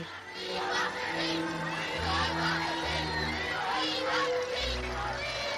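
A large crowd of about 10,000 people gathers on the Mall in London, cheering and whooping for the royal family at the end of the war. The roar holds steady throughout, with shouts and low bellows rising out of it.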